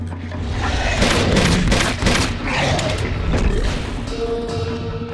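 Rapid bursts of gunfire and crashing impacts from a firefight in the video game Uncharted 2 Among Thieves, loud and dense for several seconds, with game music and effects layered underneath.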